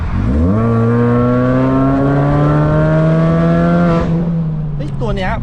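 A Mazda3 engine revs up quickly and holds a loud, raspy high note through a valved, adjustable Euro Arts sport exhaust, heard from outside the car, then drops off sharply.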